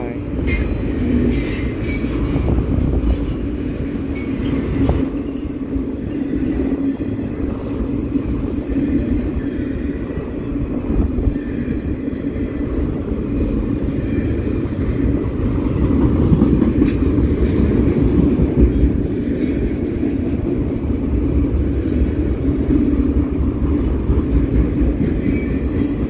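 A Norfolk Southern mixed freight train with a Conrail locomotive rolls past in Elkhart, Indiana, giving a loud, steady rumble with rail noise and a brief wheel squeal throughout the pass.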